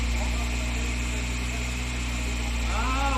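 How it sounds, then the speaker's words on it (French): A Citroën BX engine idling at a roadworthiness inspection, a steady low hum with a faint shift near the end as it begins to falter. "La calée va arriver."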